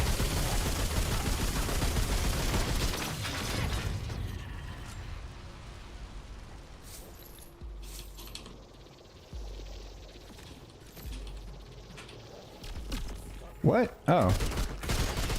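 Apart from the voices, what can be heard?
gunfire from the video game Remnant II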